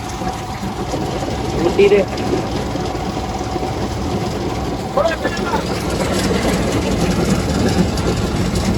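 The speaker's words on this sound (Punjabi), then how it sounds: "ਆ ਦੇਖੋ ਜੀ ਕੰਬਾਈਨ ਕੱਢ ਰਹੀ ਦਾਣੇ" Low, continuous mechanical rumble of a combine harvester working, with someone talking over it briefly.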